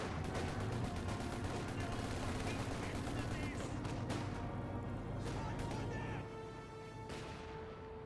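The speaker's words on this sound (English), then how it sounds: "Looks like they're firing against 2 separate targets." Dense, continuous rattling gunfire fills a Company of Heroes 2 battle between tank and infantry forces, steady and loud throughout and easing slightly near the end.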